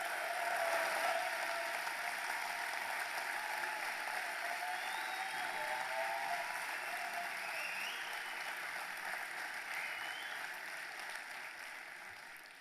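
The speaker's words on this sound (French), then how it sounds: "On peut les applaudir très fort," Steady, sustained audience applause at a national young farmers' congress, a large hall crowd clapping continuously and gradually fading toward the end.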